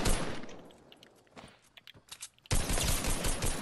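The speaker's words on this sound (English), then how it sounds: "Someone else is shooting him." Gunfire in a video game: heavy sustained volleys at the start, scattered sharp shots and short bursts in the middle, then a loud dense barrage to the end.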